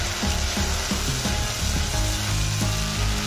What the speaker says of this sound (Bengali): ঢাকনা দিয়ে এবার ঢেকে মশলাটাকে আমি কষিয়ে নিচ্ছি।